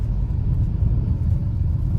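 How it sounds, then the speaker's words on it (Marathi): Steady low road-traffic rumble from cars on a weekend drive from Khandala toward Dombivali, a continuous loud engine drone with no voices. "आणि आहेच ट्रॅफिक"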